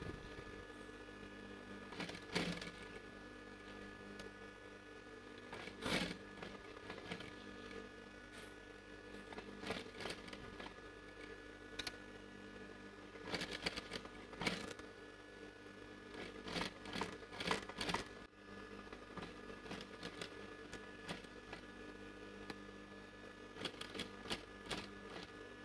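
Sewing machine stitching along the edge of a stone work blouse back neck, running in a steady close mechanical whir with frequent short bursts and brief stops for turning.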